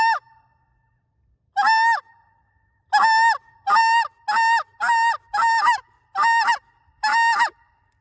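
A short reed Canada goose call blown in an aggressive plea sequence: about nine loud, close, two-toned honks in irregular bursts separated by short silences, no talk.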